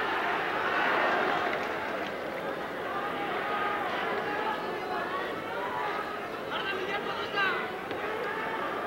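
A loud, steady roar from a packed crowd at a boxing match between Eder Jofre and Fighting Harada fills the whole stretch, with an announcer's voice running over it throughout.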